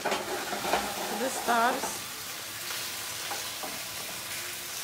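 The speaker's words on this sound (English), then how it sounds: "now we saute the shrimp" Shrimp sautéing in a hot pan gives a steady, broadband sizzle with stirring, while a voice talks briefly over it near the start.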